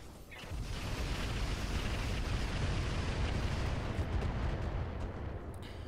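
Mech weapons fire in the BattleTech-based game Roguetech, a dense, continuous roar of blasts and rumbling impacts that swells in after a brief quieter lead-in and holds loud throughout.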